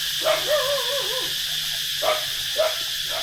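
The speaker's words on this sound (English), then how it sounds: "There's a pack of dogs." Several dogs bark and yip outdoors on an island in Thailand, with a few sharp barks and a wavering whine spread over a few seconds, fairly close, with no talk.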